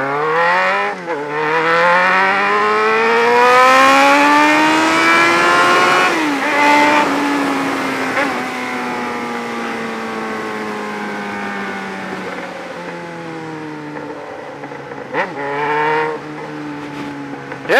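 A loud motorcycle engine revs up and down repeatedly, its pitch climbing and falling in long sweeps, close by with no talking.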